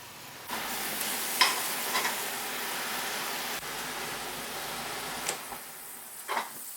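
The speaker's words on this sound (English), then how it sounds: "And get our grape tomatoes, a quick saute." Grape tomatoes sautéing in a hot pan give a steady, moderately loud sizzle and hiss, with a few brief stirring scrapes and louder spatters breaking through.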